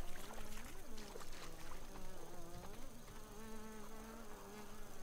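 Buzzing flies in the survival video game Grounded, a steady droning hum with wavering pitch running throughout, layered with game ambience and music.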